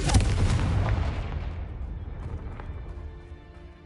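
Confringo blasting curse in Hogwarts Legacy striking with a loud, deep explosive boom that rumbles and fades away over about three seconds.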